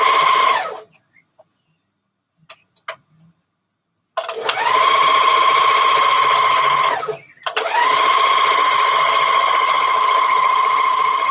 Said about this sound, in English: Serging the next side